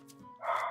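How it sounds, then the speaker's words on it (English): A pet dog barks indoors, giving two quick, close, fairly loud yips, the second stronger and more drawn out, with no one talking. "Sorry, my dog is barking."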